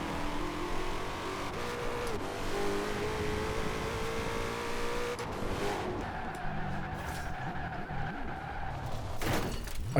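A 2020 Shelby GT500 in Forza Horizon 4 roars continuously with a high revving engine note and tire skids, a brief crash-like burst near the end, loud and close throughout.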